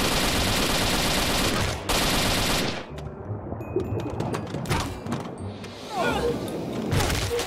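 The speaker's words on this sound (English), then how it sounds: "Hold right click and shoot?" Rapid automatic gunfire in a multiplayer video game, loud bursts of machine-gun fire and crashing impacts that stop briefly, then resume with scattered shots and bangs, with no talk.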